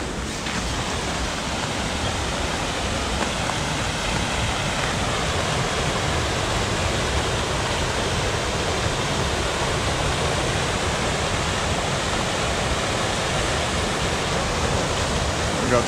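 Steady roaring rush of the winter waterfall at Cordova Falls, a dense continuous wash of falling water that holds evenly throughout without pause, with no voices.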